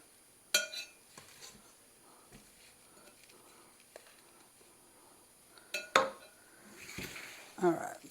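Cookie dough is mixed in a bowl, heard as scattered clinks and scrapes of a utensil against the bowl, with sharper knocks near the start and toward the end, quiet between.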